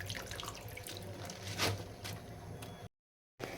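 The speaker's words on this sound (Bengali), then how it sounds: "শাকটা ছেঁকে নিচ্ছি।" Water runs and splashes steadily from a tap into a sink as washed leafy greens are drained in a home kitchen, then cuts to silence before resuming faintly.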